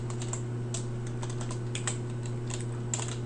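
Steady, close typing on a computer keyboard while entering R code for a logistic regression, with many quick, light keystrokes and a few louder taps over a constant low hum.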